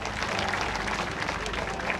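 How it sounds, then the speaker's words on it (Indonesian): Applause from a crowd at a regional government declaration event in Semarang regency, given for the PKK women's group: a dense, continuous roar of clapping, loud and even throughout with no talk over it. "Tepuk tangan untuk PKK."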